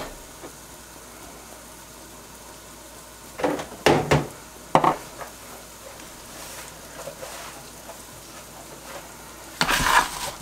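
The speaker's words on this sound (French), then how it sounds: "Je vais mélanger les pommes de terre pour bien qu'elles sont tous enrobées avec le beurre et puis l'ail." Potatoes stirred in a pan with butter, garlic and thyme: a quiet background sizzle broken by a few short scraping, clattering bursts of utensil against pan, with a louder scrape near the end.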